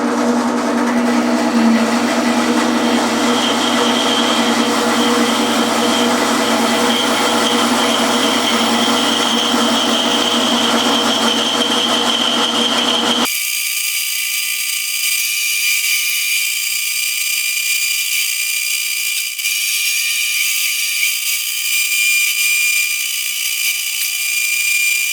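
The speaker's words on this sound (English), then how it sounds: "So here goes work on the bandsaw." A bandsaw cuts a solid cherry soprano ukulele neck blank, holding a loud, steady whine for about thirteen seconds before it drops off sharply, leaving a faint residual hum.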